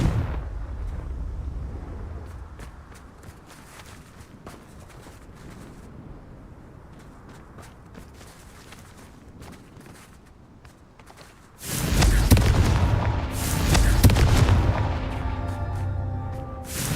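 Fiery Confringo spell explosions in the game Hogwarts Legacy erupt as loud, dense booming bursts late on, after a long stretch of quieter rumbling ambience and scattered clicks.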